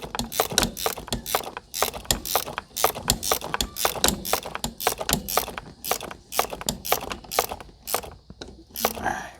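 Ratchet clicking in fast, steady bursts as a bolt is tightened on a 1997 Ford Explorer seat during a tilt lever repair, loud and close with brief pauses between strokes.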